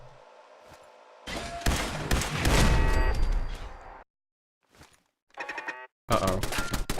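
Automated turrets open fire in Fallout 4, loud rattling bursts that start and stop in short volleys with brief quiet gaps between them.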